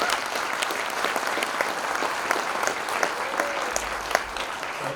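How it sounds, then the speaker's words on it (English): An audience at a 2024 event gives Dr. Kenney a round of steady, dense hand-clapping that lasts throughout, with a few sharper claps standing out. "So I'm going to ask that we give Dr. Kenney a hand around the floor"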